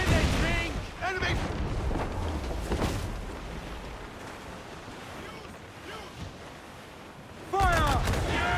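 A naval battle in Assassin's Creed IV Black Flag, with booming cannon blasts rolling under wind and surging sea. Shouting voices come and go over the roar.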